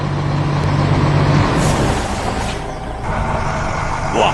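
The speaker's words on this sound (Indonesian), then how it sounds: "Lihatlah, truk kuning besar itu berjalan menyusuri kota." A big yellow truck drives through town, a loud, steady engine rumble up close with brief higher tones.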